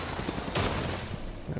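A shot rings out in Darksiders III as an item is blasted down, a broadband burst with a loud peak near the middle among dense game effects, without speech.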